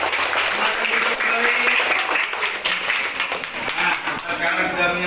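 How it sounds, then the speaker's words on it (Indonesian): Children clap in a classroom after singing a group song, a loud, dense burst of applause with some voices mixed in, sustained across the whole stretch. "Tepuk tangan buat kalian."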